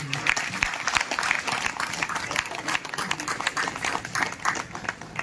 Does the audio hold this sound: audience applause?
yes